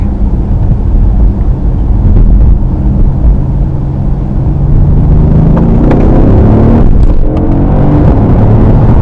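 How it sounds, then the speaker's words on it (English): A 2015 Mercedes-Benz S63 engine rumbles loudly and steadily, its pitch rising as it accelerates on a wet road, with a few sharp pops as the gears change up. "You do get a nice sound, like a popping sense sound, when the gears are changing up"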